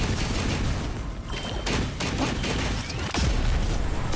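Shooting in the Punishing: Gray Raven game, a dense, loud barrage of gunfire and impacts that blend into a continuous roar, with a heavier blast near the end.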